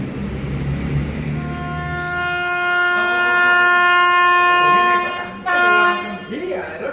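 A train passes on Thailand's Southern Line at Ratchaburi, its horn sounding as a long sustained chord that swells loud midway, with a rumbling rail roar underneath and a brief louder burst near the end.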